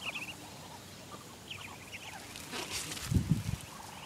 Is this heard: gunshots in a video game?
no